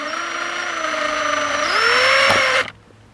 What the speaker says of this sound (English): Run your drill in reverse, and yeah, she's going though.